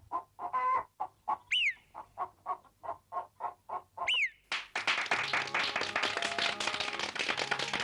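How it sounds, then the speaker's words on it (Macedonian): Hens clucking in a children's counting song, a rhythmic run of clucks with a couple of rising calls, then dense clapping-like percussive sound. "6 кокошки снесоа 6 јајца и од нив се изведоа"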